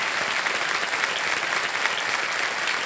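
Sustained studio audience applause at a TV quiz show, dense steady clapping that fills the whole stretch without any voices on top.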